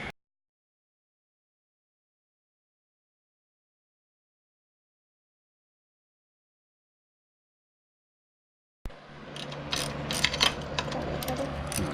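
A socket ratchet clicks in quick, close bursts while working loose a lower unit bolt on a Yamaha F225 outboard, starting after a long stretch of silence and running to the end.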